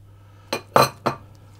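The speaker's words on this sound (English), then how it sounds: "add my pineapple and the banana, and I'm going to stir those in" Pineapple and banana are stirred into batter in a bowl, giving three quick clinks of a utensil against the bowl in close succession, close and crisp over quiet.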